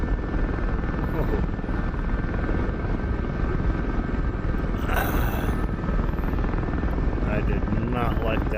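An SA-342 Gazelle helicopter flies in the DCS combat simulator, its rotor and turbine drone steady, loud and continuous throughout, with only a brief brighter swell midway.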